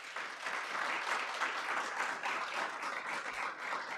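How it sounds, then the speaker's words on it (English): Audience applause at a university faculty research celebration, steady dense clapping from a roomful of people, moderately loud and continuous with no voices over it. "Give him a round of applause"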